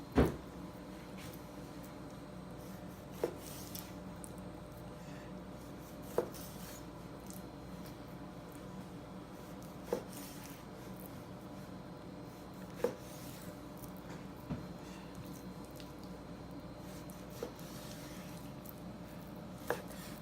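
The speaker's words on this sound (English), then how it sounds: "And now we're going to make petite fillets." A butcher's knife slices through beef tenderloin to portion petite fillets, giving a faint steady cutting texture with sharp knocks about every three seconds as the blade meets the board.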